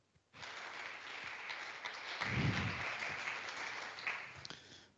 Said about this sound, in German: gebt denen ruhig nochmal einen Applaus